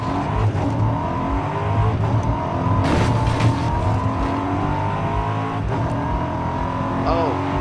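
Engine drone from a car in the racing video game Forza Horizon 5, continuous and fairly loud with shifting revs and a few sharp transient bursts, while someone talks quietly underneath.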